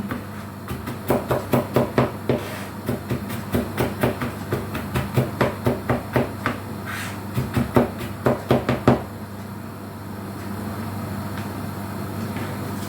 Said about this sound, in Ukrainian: нарізали і ще раз так поріжемо